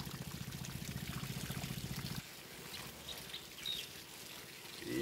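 Irrigation water pours from a long pipe onto lakatan banana plants during the Central Luzon summer, a fairly faint, steady gushing that eases into a lighter trickle partway through.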